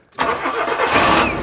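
A Nissan Micra K11 that sat abandoned for ten years cranks and fires on a jump pack: a brief starter whir, then a close, loud engine catching and running steadily for over a second.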